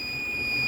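A Microtek 1050DG inverter sounds its overload alarm as it is switched on, a steady high-pitched electronic tone that holds continuously through the short moment.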